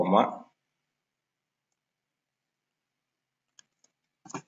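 After a brief spoken phrase, a computer keyboard gives a few sparse, close clicks and a quick burst of typing into a calculator.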